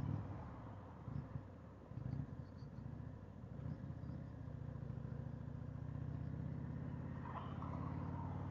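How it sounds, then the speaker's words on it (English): Miami road traffic heard from a moving motorcycle, an Indian bike: a steady, moderately loud engine and traffic rumble that continues throughout without a break. "You gotta love Miami traffic, man."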